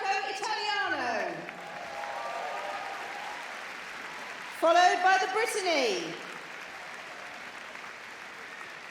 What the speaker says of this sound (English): please give a warm round of applause to our best of breed Bracco Italiano